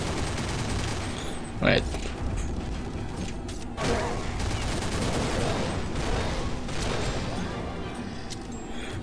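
A P90 Turtle Rabbit fires in a game session, a continuous rattle of rapid shots and mechanical clatter with a couple of sharper bursts, while a voice briefly speaks.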